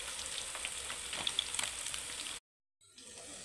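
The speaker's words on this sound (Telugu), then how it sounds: "మంచిగా వేగనిద్దాం" Pieces of mutton fry in a pan until brown, an even, close crackling sizzle with small pops that drops abruptly into a moment of silence before resuming more quietly.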